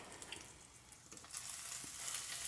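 Tree top oyster mushrooms frying in a pan give a soft, steady sizzle and crackle, faint and close, with the hiss swelling a little toward the end.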